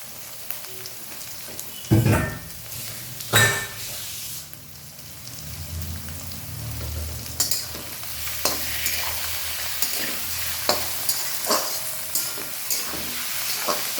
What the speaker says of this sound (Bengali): একটু ভালো করে নাড়াচাড়া আর ভাজা ভাজা করে নেব